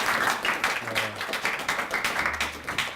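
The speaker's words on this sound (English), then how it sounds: "And what about a little round of applause?" A small audience at a lecture gives a brief round of applause, the claps uneven and fairly close, with a faint voice briefly underneath.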